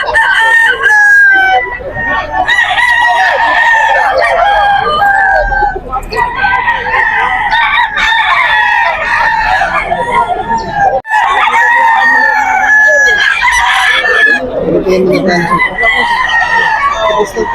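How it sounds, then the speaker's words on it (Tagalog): Many roosters and hens crow and cluck at a poultry market in Bocaue, Bulacan, with overlapping loud crows rising in dense waves throughout and faint voices in the background. "Daming manok."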